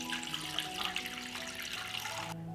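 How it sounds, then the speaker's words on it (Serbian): Water pours from a tap into a cooking pot holding canning jars on a cloth, a steady close splashing and gurgling that cuts off abruptly near the end. "I sipat ću vodu do visine poklopca."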